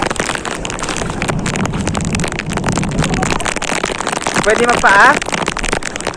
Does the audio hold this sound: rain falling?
yes